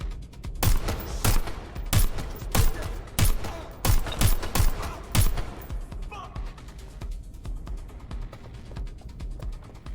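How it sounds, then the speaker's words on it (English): Gunfire in Watch Dogs: Legion rings out as a rapid string of loud, sharp shots in quick bursts over the first six seconds, then trails into quieter game ambience with voices talking underneath. "From the intense gun battles"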